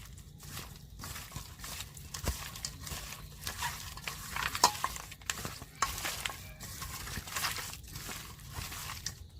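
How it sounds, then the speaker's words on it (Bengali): Chicken pakora batter with lime juice is mixed by hand, giving soft, wet squelching and crinkly kneading sounds in an uneven rhythm, faint and close. "এবারে হাত দিয়ে ভালো করে মাখিয়ে নেব"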